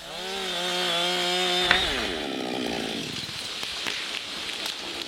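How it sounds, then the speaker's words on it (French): A chainsaw cuts through the holding hinge at the back of a tree during manual felling, its engine revving high and steady, then bogging and shifting pitch as the chain bites into the wood; loud and close. "Finalement, sciez le talon qui retient l'arbre."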